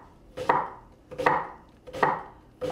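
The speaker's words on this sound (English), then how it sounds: "So we're just going to chop this onion into small pieces, into thin slices." A knife chops through an onion on a cutting board, cutting it into thin slices: four distinct, fairly loud chopping thuds spaced about three-quarters of a second apart, each with a short crisp tail, and no talking.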